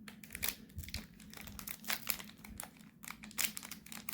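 A Yu-Gi-Oh card booster pack wrapper is torn and crinkled open up close: a quick series of crisp, irregular plastic crackles and rips, quiet and without talk.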